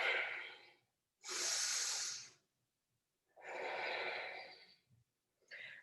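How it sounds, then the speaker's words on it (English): Slow, deep breathing during a yoga pose: long audible inhales and exhales through the nose and mouth, each lasting about a second, separated by silent pauses and ending with a shorter breath. "Keep breathing."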